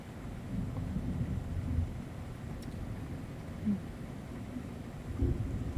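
A loud, low thunder rumble rolls steadily across the whole stretch during a stormy horror-film scene, with faint wind, and no one speaks.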